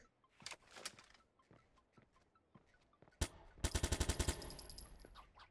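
A quiet stretch of scattered clicks and taps, then a loud burst of rapid automatic assault rifle fire in the video game Watch Dogs, sharp repeated shots ringing out for about two seconds.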